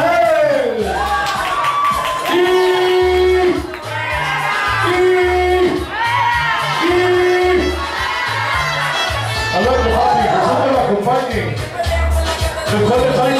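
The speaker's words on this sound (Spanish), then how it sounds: "Aplauso para él." A lively crowd at a karaoke program cheers and claps. Shouts and voices rise over a busy background, with children shouting and a loud, continuous crowd roar.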